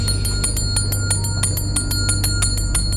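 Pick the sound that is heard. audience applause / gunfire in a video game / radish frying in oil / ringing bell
ringing bell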